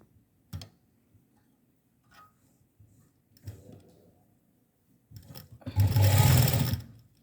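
A sewing machine stitches a tiny choli for a Ladoo Gopal doll, starting with a few short, quiet bursts and isolated clicks, then ending in one loud, steady run of close needle rattling.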